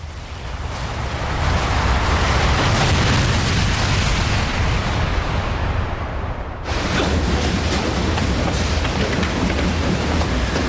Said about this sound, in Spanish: Me ha parecido una explosión.